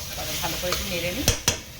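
Green chili paste sizzles in a frying pan while being stirred, a close continuous frying hiss topped by two sharp knocks of a spatula against the pan near the end.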